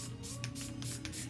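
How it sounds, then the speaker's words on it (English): Short hissing burst of spray glue from an aerosol can onto a cosmetic organizer being glittered, a quiet close spray lasting over a second. "So I just sprayed some more glue."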